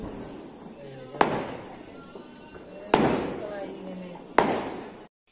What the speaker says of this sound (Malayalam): അവിടെ പടക്കം കേൾക്കും